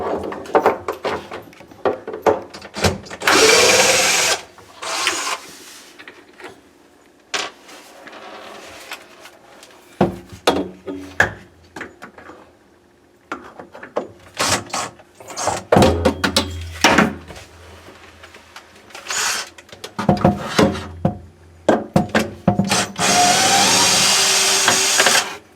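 A power drill backs screws out of kitchen cabinets in several loud, short whirring bursts, separated by clunks and handling knocks from the wood cabinets.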